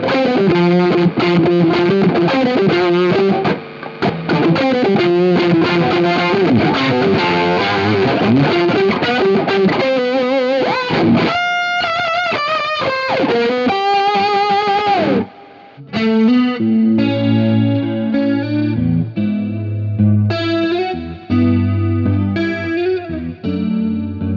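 Electric guitar riffs run through a Whammy pitch-shifting effect pedal, with swooping bends and jumps in pitch, loud and distorted, playing alone for about twenty seconds.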